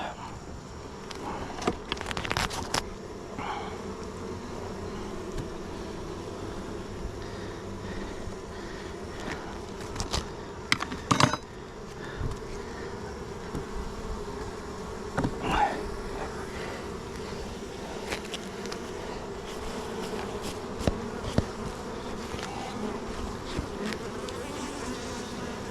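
Agitated honeybees swarm around an opened backyard hive in a dense, steady buzz, with louder passes as individual bees fly close by.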